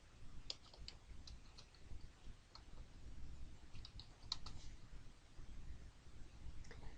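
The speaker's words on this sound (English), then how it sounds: "I can click on the search box and then again type in my company's name" Computer keyboard typing, a few light scattered clicks in short bursts, faint and close over a low steady background rumble, with no speech.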